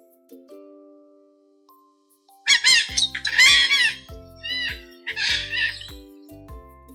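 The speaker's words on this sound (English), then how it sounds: "Parrot says, "Squawk squawk."" A parrot lets out several harsh, raspy squawks in irregular bursts, loud and close, after a quiet start.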